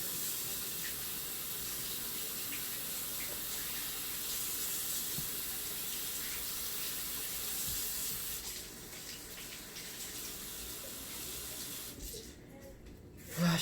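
Running tap water pours steadily into a kitchen sink while something is rinsed under it, a constant broadband rush that thins out near the end, during chicken and potato cooking.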